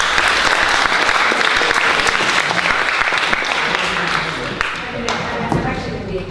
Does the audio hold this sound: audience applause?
yes